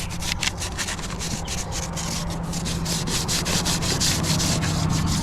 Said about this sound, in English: I'm going to scuff away the shine to make sure the paint sticks.